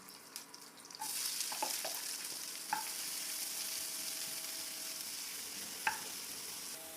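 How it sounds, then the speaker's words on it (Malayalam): Onions frying in a pan with mustard seeds, green chilli and curry leaves, under a steady close sizzle with occasional scraping clinks of a spoon turning them. "ഉള്ളി വാടാനായിട്ട് തിരിച്ചിട്ട് കൊടുക്കും"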